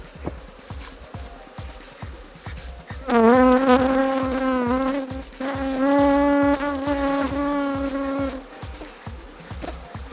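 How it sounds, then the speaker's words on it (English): A loud, steady buzzing of honeybees being wiped off a honeycomb swells close by, rising and wavering in pitch, over a quieter background hum of many insects. "Now she's going to wipe out the bees from the comb."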